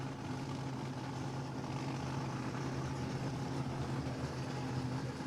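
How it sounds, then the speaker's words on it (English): A supercharged rear-engine dragster at a drag strip rumbles steadily with a deep, low engine drone that holds loud and constant throughout, with no talk. "you can hear firing up the supercharged rear-engine dragster"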